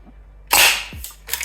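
Golden Eagle M1887 gas airsoft shotgun fired through a chronograph: a single sharp, loud gas pop, followed by a rattling action and a second quieter burst near the end.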